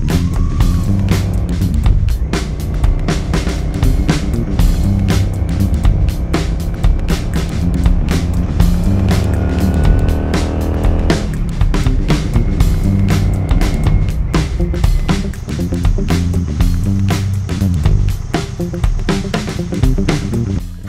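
A Honda Shadow VT400 motorcycle pulls away and rides on, its engine droning loudly and continuously with rising and falling revs and heavy wind rush throughout.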